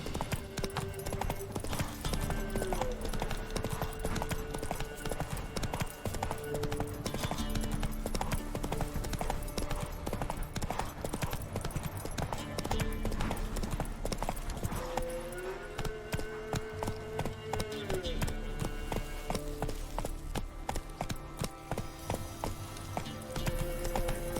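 Geralt's horse Roach gallops in The Witcher 3, with steady rhythmic hoofbeats pounding close and loud over a long stretch, alongside jingling tack and game music.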